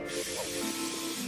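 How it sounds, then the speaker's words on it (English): Hair spray hisses from an aerosol can onto freshly curled hair, a steady close spray lasting just over a second with no talking. "Let me spray it."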